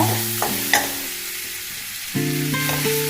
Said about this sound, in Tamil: அதை கொஞ்சம் போட்டு லைட்டாக வதக்கிக்கலாம்